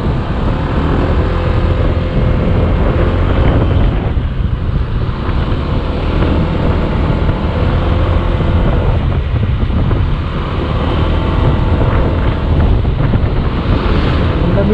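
Cold wind roars steadily against the microphone while riding an ADV 160 motorcycle on a group ride, a loud, unbroken buffeting rush with no speech.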